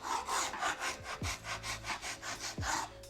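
Rhythmic back-and-forth rasping as the edges of a handmade surfboard fin are rounded and shaped, about a dozen even strokes with occasional low thumps, close and clear without any voices.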